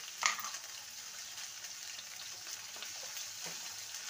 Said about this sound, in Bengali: উচ্ছেটাকে ভালো করে ভেজে নেব লাল করে।